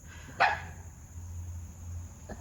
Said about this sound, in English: The dogs have decided that now is the time to play.